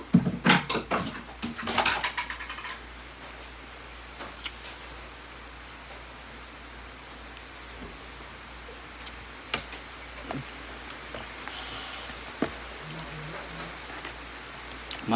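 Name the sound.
rain falling outside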